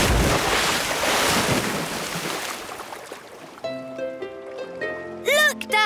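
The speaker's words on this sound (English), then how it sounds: "Prepare for a big splash." A cartoon aircraft comes down into open sea with a big splash, a loud rushing, wind-like wash of water that fades out, followed by bright musical tones.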